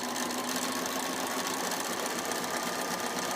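A sewing machine runs a zigzag stitch with a fast, even mechanical whir and needle chatter, close and continuous.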